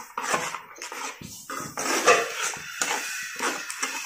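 A cooking pot being stirred after spinach is added, with repeated close scraping and clinking of a utensil against the metal pot in an uneven rhythm and no talk.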